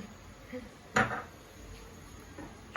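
A spoon stirring boiled chickpeas in a cooking pot gives one sharp metallic clink against the pot, with faint scrapes before and after in a quiet kitchen.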